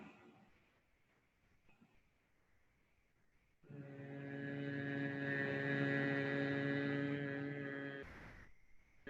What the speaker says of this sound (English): exhale with a hum